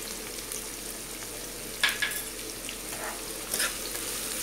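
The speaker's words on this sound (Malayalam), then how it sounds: "ഇളക്കുക." Masala sizzles and fries in a pan while being stirred for a chicken roast, a steady soft crackle with a couple of brief scraping clinks from the spoon.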